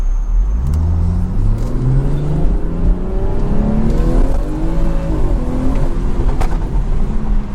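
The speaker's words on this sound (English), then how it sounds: "that's some crazy burbles" A BMW 340i in traffic, its engine note rising and falling as it accelerates and lifts off, with exhaust burbles and crackles close and loud throughout.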